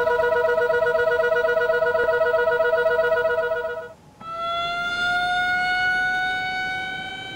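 At Block 55 of an industrial plant's offsites area, a loud two-tone warbling gas alarm sounds first, then after a brief gap a continuous rising siren from the pump slab takes over, droning steadily.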